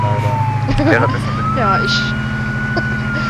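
A vehicle siren on an Ifrit armored truck in the game Arma 3 Altis Life, rising and wailing under a steady engine drone while people talk over it.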